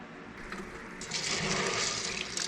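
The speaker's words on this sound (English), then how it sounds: "I'm going to fill this jar up twice." Tap water pouring into a jar to soak soybeans for soy milk and tofu, a steady close rush that grows louder and brighter partway through as the jar fills.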